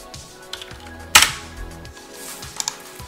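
Keys tapped on a terminal keyboard while booting the Michigan Terminal System mainframe OS, a few scattered clicks with one sharper louder strike near the middle, close and without talk.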